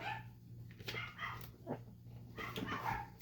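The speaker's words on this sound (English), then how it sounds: "You might hear my dogs barking in the background." Dogs bark and yip faintly in the distance, a few scattered barks over a low steady hum.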